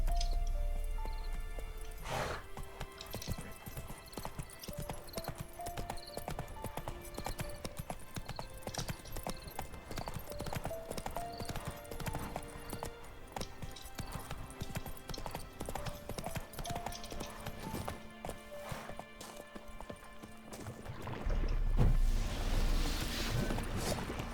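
Hooves of the horse Roach in The Witcher 3 beat out a steady, fast clip-clop gallop for the full stretch, close and rhythmic, with a brief heavier thump and shuffle near the end.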